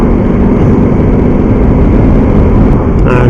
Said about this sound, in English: Okay, changing down the gears.